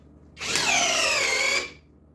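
Cordless power drill boring a hole into wood, one burst of loud high motor whine with slight rising pitch lasting about a second, heard alone and close.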